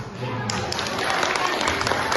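A talk show audience claps steadily in sustained applause, with indistinct voices mixed into the dense patter.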